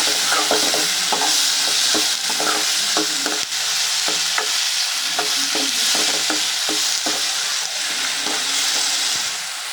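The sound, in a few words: frying tomatoes with liver masala in pan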